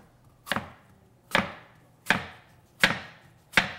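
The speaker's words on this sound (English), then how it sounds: "I cut it in half, and then I'm going to cut nice thin slices here." Five crisp knife strokes cut a green apple into thin slices on a board, evenly spaced, close and clear with no talking.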